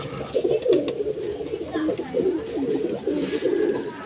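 Pigeons, old-line breed birds kept in a loft, coo in low, throbbing repeated calls close by, overlapping one another with a faint voice in the background.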